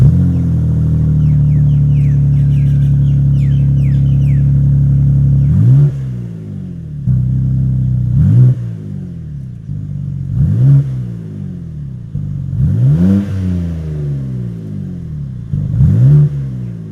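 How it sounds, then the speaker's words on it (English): A new BMW M2 engine idles with a deep rumble, then revs sharply several times in a row, each rev climbing and falling back with a gurgling exhaust. "once you engage this, the exhaust gets louder, it gets more gurgly"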